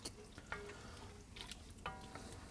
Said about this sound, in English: Get your heat on about medium and keep stirring because you don't want the milk to burn the bottom